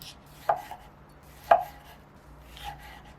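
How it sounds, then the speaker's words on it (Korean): A knife chops ripe tomatoes and garlic on a cutting board, giving two crisp, close thuds about a second apart and a softer third cut, with quiet pauses between them. "잘 익은 토마토도 작은 크기로 잘라 팬에 넣으세요"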